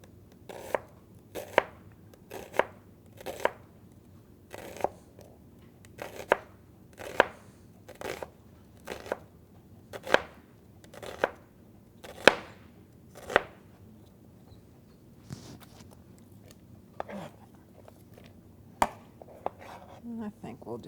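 Sharp knife thinly slicing an onion on a cutting board, a steady series of crisp, close chopping knocks at roughly regular intervals, with quiet talk in the background.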